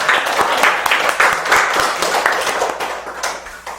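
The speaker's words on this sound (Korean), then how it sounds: "등강보살님께 박수." A congregation at a Korean Buddhist Sunday service marking a Seoul meditation center's anniversary gives a short round of steady applause that gradually softens toward the end.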